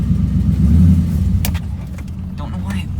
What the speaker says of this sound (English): Don't know why it idles so damn low.